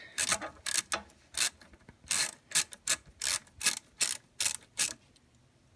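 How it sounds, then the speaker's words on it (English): Ratchet with a 10mm socket clicks in about a dozen short, sharp bursts as it is worked back and forth to loosen the alternator-to-battery power cable nut, close and alone. "So this is a 10mm socket that we're using. I'm just taking off the power cable that's going from the alternator to the battery."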